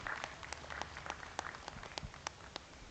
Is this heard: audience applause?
yes